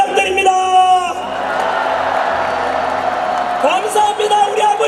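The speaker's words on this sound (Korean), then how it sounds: "큰 함성과 함께" A large assembled crowd at a Korean rally or public speech roars with sustained shouting and cheering, loud and continuous across the whole stretch, with whoops and yells rising out of the wash of voices.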